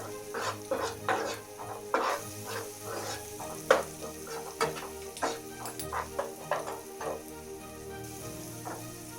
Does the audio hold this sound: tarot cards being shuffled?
no